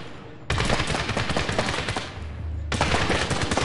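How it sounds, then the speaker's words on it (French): Sustained automatic gunfire in the video game Medal of Honor, a rapid dense burst of shots fired through walls, loud and close, pausing briefly before another volley. "l'autre il tire à travers les murs"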